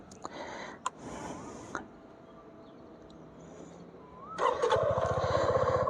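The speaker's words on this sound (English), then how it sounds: "So let us start this motorcycle." A Suzuki V-Strom 250 sport-touring motorcycle starts up: a few clicks and a faint whirring pause, then the engine catches and settles into a steady, close, rumbling idle.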